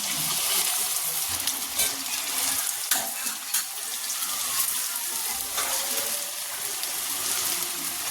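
Chicken pieces for crispy chicken frying in very hot oil, a dense continuous hiss and crackle with occasional louder pops, close and steady throughout.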